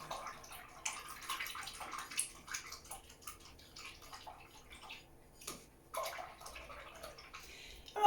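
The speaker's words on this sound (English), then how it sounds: "I'm going to rinse my brush off." A paintbrush is rinsed in a water container during a cardinal-on-a-branch painting session, giving soft, irregular splashes, swishes and taps against the container, fairly quiet and close, with a brief louder clatter near the end.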